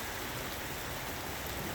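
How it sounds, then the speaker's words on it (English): Steady rain pours over a tiger enclosure with a pool, a dense, even hiss of falling water that holds constant throughout, close and fairly loud, with no voices. "Starting to rain."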